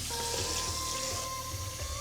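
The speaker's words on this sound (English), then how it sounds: "So I'm just going to put enough water just to barely cover the peas here." Water pours steadily into a pressure cooker over soaked white peas, a continuous close splashing and gurgling stream throughout with no talk.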